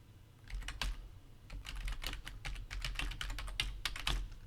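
Rapid keystrokes on a computer keyboard as an email address and password are typed into an account registration form, a steady irregular clatter of close, crisp key presses with no speech.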